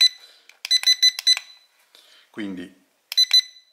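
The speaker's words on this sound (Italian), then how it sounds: "con due beep velocità 2, tre beep velocità 3, un beep velocità 1" Eachine E009 mini drone's handheld controller sounding short electronic beep bursts in quick groups, close and clear, with someone speaking Italian between the beep groups.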